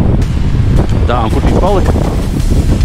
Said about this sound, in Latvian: šeit diezgan liels vējš ir sanāk